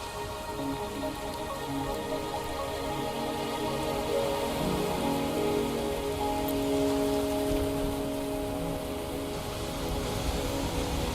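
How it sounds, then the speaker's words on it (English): Steady rain patters on surfaces in the Wuthering Waves game, a continuous soft hiss under a faint musical drone. "Are you trapped here by the rain?"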